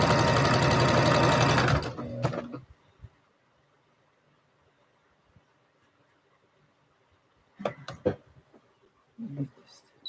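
A sewing machine stitches a pajama tee-shirt in a loud, steady whir for about two seconds, then stops; a few faint clicks and handling sounds follow in near silence, with brief bumps of movement near the end.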